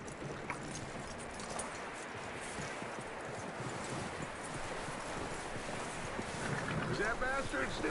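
Horse hooves clip-clopping along in Red Dead Redemption 2, a steady, moderately close stream of hoofbeats under constant wind and rustling outdoor ambience, with no speech, holding an even level throughout.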